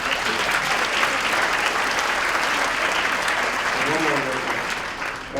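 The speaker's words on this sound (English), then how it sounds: "I love it. Clap it up." An audience at a speech gives sustained applause, a dense, continuous wash of many hands clapping that stays steady and loud throughout, then eases slightly toward the end.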